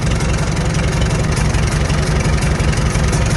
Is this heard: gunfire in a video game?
no